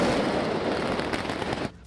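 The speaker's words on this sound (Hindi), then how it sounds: "इस दौरान जमकर आसमानी आतिशबाजी भी की गई।" Dense, continuous crackling bursts of fireworks at a festival in Goa fill the air loudly before cutting off sharply near the end, with no talk over them.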